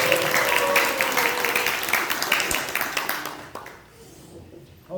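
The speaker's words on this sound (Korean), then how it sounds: "우리 항상 예배팀들이 예배를 많이 주시는데 박수 한번." A congregation at an outdoor church service applauds the worship team, a dense burst of many hands clapping that fades out near the end, heard at middle distance with a voice briefly rising over it.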